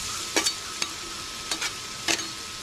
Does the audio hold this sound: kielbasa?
yes